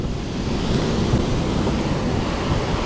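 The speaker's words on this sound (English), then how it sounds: "The noise of the stones and the shingle" Heavy storm surf crashes and drags stones and shingle over a pebbly shore at Lantic Bay, a continuous loud rushing roar with gritty rattling undertones.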